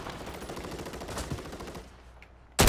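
Rapid fully automatic gunfire in a shooter video game sounds as dense rattling bursts, then goes quiet for a moment before a loud close burst cuts in at the end.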